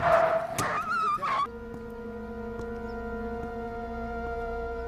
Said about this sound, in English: this version opens with a dog getting hit by a car and dying